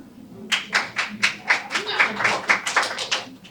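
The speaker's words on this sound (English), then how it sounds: "You get applause just for standing up." An audience claps for a speaker standing up at a women's conference, a steady run of distinct, moderately loud handclaps beginning after a brief pause.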